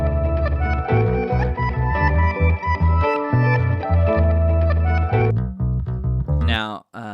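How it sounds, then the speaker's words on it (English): A solo active bass guitar line: deep, punchy plucked notes in a steady groove, loud and close, with a few brighter slides near the end. "the active bass sounds like this."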